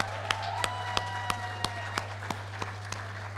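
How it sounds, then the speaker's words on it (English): Evenly spaced claps, about three per second, ring out over a steady low hum at a Sheridan Institute graduation ceremony, sounding sparse, like only a few hands clapping. "Can we please give them another round of applause?"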